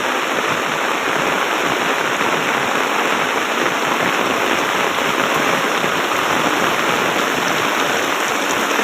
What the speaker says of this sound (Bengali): কি পরিমাণ বৃষ্টি পড়ছে তা বলার অপেক্ষা রাখে না প্রচুর বৃষ্টি পড়ছে